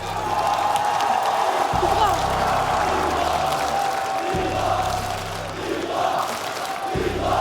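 A loud arena crowd at a Call of Duty esports tournament in Paris applauds and cheers in a sustained roar, with whoops and a few deep bellowed chants pulsing through it.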